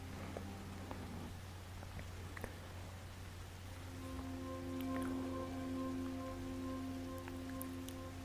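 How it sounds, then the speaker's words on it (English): Steady rain hiss on a surface runs throughout, with a low hum and soft tonal ambient menu music from GameCube games fading in beneath it partway through. "I really like the sound of rain"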